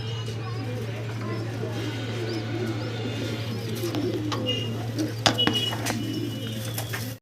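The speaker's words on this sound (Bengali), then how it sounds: "দুইটা বেবি সহ ব্ল্যাক কালারের শর্ট পেস কবুতর" Black short-face pigeons with two young give soft, low cooing beneath a steady hum, while a person talks quietly nearby and a brief knock sounds near the end.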